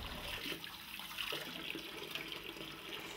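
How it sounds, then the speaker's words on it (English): A bathroom tap runs for rinsing a toothbrush, giving a soft, steady hiss of flowing water into a sink, faint and continuous throughout. "when you want to rinse your toothbrush off, then you can turn on the tap"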